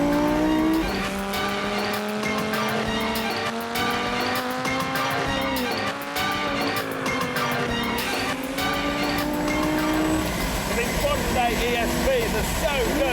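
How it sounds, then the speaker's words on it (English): Lamborghini Gallardo Spyder V10 engine revving hard in second gear, a loud sustained roar with rising and falling pitch over about ten seconds, then settling into a rougher, lower drone near the end, with someone talking over it. "get to the revs, that is just V10 heaven."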